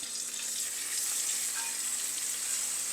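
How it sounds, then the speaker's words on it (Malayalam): A loud, steady hiss of hot oil sizzling and crackling continuously as a mustard seed tempering is poured into onion sambar, close up, with no voices. "സാമ്പാറിനകത്തേക്ക് നമുക്ക് വറുത്തത് ഇടാം കടുക് വറുത്തത് ഇടാം"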